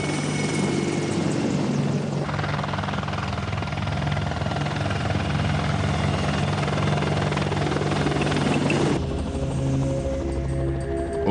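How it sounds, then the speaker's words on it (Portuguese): Military attack helicopters fly low overhead, rotors thudding in a loud, continuous drone that holds steady and then shifts in tone as they pass. "Voando assim perto do solo, os helicópteros conseguem se aproximar furtivamente do inimigo."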